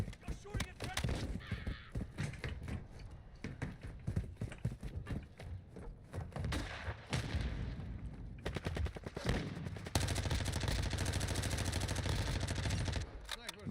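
Gunfire in a Call of Duty video game: dense bursts of rapid shots and rattling automatic fire, loud and near, mixed with voices talking over the action.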